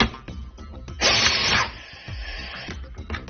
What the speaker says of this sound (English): So let's try the direct driven tool, the LTP.